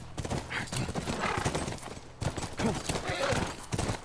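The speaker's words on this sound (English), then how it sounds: "That's our horse." Horse hooves clip-clop in a quick, uneven rhythm close by in The Last of Us Remastered, with a horse whinnying over them.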